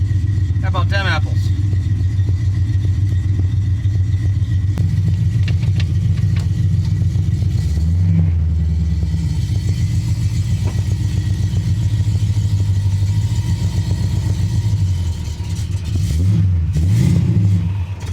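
An EFI-swapped AMC AMX engine runs steadily at idle throughout, a loud, close mechanical rumble with a few revs toward the end, while people talk over it.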